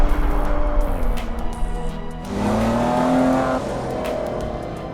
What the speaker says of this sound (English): They tune the signature Maserati sound as well.